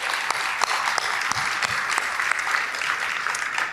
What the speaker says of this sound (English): Why don't you just give yourself like a really warm round of applause.